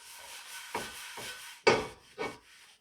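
A rag rubs across a preheated cast iron pan in a few firm strokes, a dry scraping swish repeated about four times close up, with quiet moments between.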